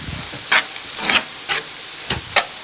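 A spoon stirs spiced meat filling with crumbled chicken stock cube in a hot pan, giving repeated scraping swishes in an even rhythm over a constant frying sizzle, close and clear.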